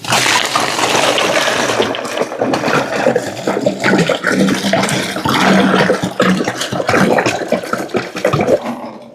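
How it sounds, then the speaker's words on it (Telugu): Bore water gushes steadily from a pipe into a goldfish aquarium tank, a loud, continuous splashing rush close by that barely changes for several seconds, with no voices. "ఇప్పుడు వాటర్ ఫిల్లింగ్ స్టార్ట్ చేద్దాం."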